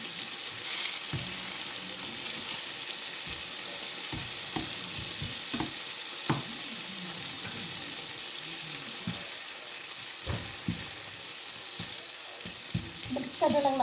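Dried fish (bulad) fries in a pan with a steady, close sizzle. Scattered clinks and scraping from stirring and turning the fish sound over the top throughout.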